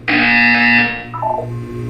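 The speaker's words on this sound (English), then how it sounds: "You will hear a buzzer." A harsh electronic buzzer from the Portal 2 test chambers blares loudly for about a second, then fades into a lower warbling tail.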